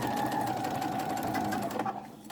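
Sewing machine stitching elastic down onto a triple-layer washable fabric face mask, running as a steady continuous whir that holds close and loud for about two seconds before easing off at the end, with no talk.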